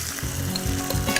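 Fried chilies and potatoes stirred into hot sizzling masala for mirchi ka salan, a brief burst of crackling fry with a couple of quick stirring scrapes.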